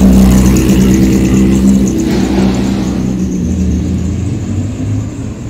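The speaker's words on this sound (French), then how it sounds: "Une Porsche, dont je vous laisse écouter le son. Encore une Porsche qui va faire saturer complètement le micro." A Porsche sports car at the Tour Auto 2020 rally passes close by with a loud, rasping engine note that swells and then holds steady for a few seconds, saturating the microphone.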